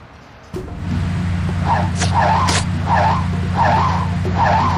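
A car in the video game Sam & Max: Beyond Time and Space drives with a steady engine drone, starting abruptly and joined by several repeated squealing skids at regular intervals, loud and close, with no speech.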